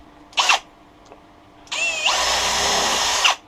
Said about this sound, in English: Pilot drill is absolutely necessary.